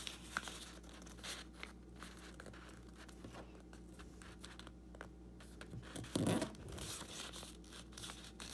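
A sheet of paper folded in half gives soft, close crinkling and rustling, with a sharper, louder crease near the end.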